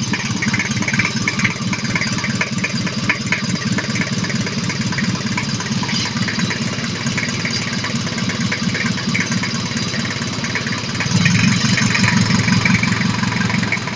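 A Mazda R2 engine idles steadily and fairly quietly for the whole stretch, a low continuous hum with a slight rise in level near the end and no talking.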